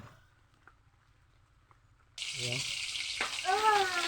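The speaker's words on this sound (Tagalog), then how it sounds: "Nagprito na tayo idol." Fish frying in a pan, a sudden loud hiss bursting in after two seconds of quiet and holding steady, with a voice speaking over the sizzle.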